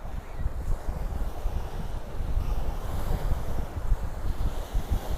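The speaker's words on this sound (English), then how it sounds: "This is an ocean breeze, as they like to say." Northeasterly ocean breeze at Miami Beach, Florida, blowing as gusty wind buffeting close on the microphone over a low roar of surf, loud and continuous with no talking.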